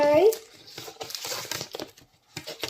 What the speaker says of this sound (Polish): Dobra, odpakowujemy wszystko szybko.